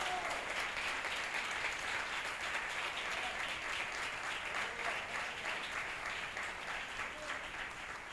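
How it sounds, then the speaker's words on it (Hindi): Church listeners at a sermon clap together in a steady, continuous round of applause, heard at a moderate distance and easing slightly toward the end. "पलूस के लिए जोरदार तालियां हो जाए"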